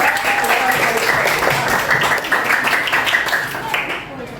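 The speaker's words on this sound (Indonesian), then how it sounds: "Sekali lagi berikan tepuk tangan pada kelompok" Classroom applause for a student group, a dense steady patter of many hands clapping close by for several seconds, with voices talking over it before it fades out at the end.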